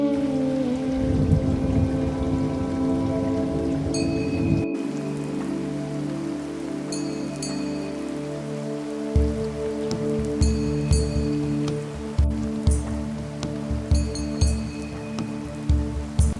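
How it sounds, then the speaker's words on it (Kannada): Steady rain falls on the stone courtyard and carved granite of Brihadeeswara Temple in Thanjavur, a dense continuous patter with heavier drops splashing nearby, no voices, just the wash of rainfall throughout. "ಕಲ್ ಮೇಲೆ ಬೀಳ್ತಾರೋ ಮಳೆ ಹನಿಗಳು ನಿಜವಾಗ್ಲೂ ಮಾತಲ್ಲಿ ಹೇಳೋಕ್ಕಾಗಲ್ಲ."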